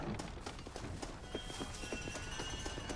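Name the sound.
horse hooves in Red Dead Redemption video game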